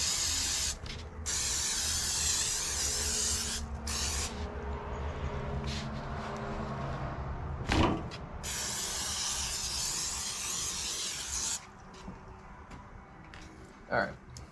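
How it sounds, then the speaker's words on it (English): Pam cooking spray hisses onto picanha before grilling in several long, close bursts with short pauses between them, while a person talks underneath. "spray this with Pam, because you don't want it sticking to the grate"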